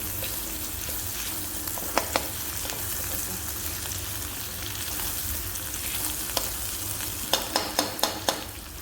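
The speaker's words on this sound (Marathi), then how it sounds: "अशा प्रकारे कांदा टोमॅटोला मस्त छान तेल सुटेपर्यंत मस्त परतून घ्यायचं आहे" Chopped onion and tomato sautéing in oil in a pan for egg curry, a steady close sizzle throughout with a few sharp clicks of a spatula scraping the pan near the end.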